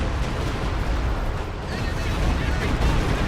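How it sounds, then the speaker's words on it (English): A Stuka dive bomber strike in a WWII strategy video game, heard as a dense, continuous rumble of explosions and blasts mixed with battle noise, with a voice commenting over it. "And Stuka firing."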